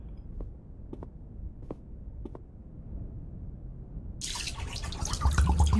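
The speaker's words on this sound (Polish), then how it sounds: "The water runs back out of one of the other holes." Water poured into a hole in a puzzle adventure game, a few sparse drips at first, then a louder gurgling trickle and splash of liquid running out that builds toward the end.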